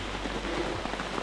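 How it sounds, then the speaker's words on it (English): Steady rain falling through a forest on Isle Royale, a dense continuous patter of drops on leaves and ground, close and even throughout with no voices. "It's raining now."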